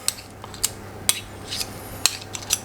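Two metal spoons scrape and clink against each other while shaping black olive tapenade into a quenelle, producing several light, sharp clicks spaced irregularly over a quiet kitchen background.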